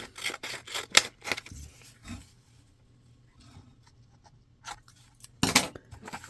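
Scissors trimming paper for a mountain-view collage: a quick run of crisp snips close up, a quiet pause with faint rustling, then a last pair of sharp cuts, no voices.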